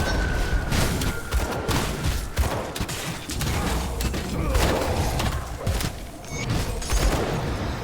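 Rapid bursts of gunfire from enemies shooting at the player in Grim Dawn, dense and continuous with heavy thumps throughout, mixed with game effects.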